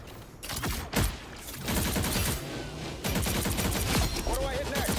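Rockets fire in a video game in a rapid barrage of explosive bursts and crackling blasts. The volleys are dense and loud, with pauses between them, and a voice speaks over the action.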